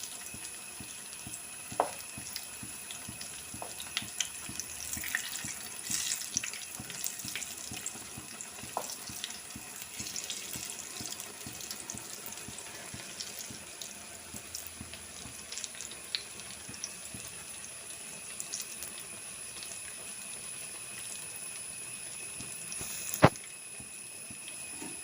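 Banana bajji in batter frying in hot coconut oil, a steady soft sizzle with scattered crackles and pops throughout, close by, and one sharper clatter near the end.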